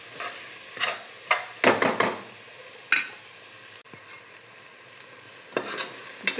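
Beans and carrots with tomato stirred in a pan, with irregular spoon scrapes and clanks against the metal over a gentle, steady sizzle.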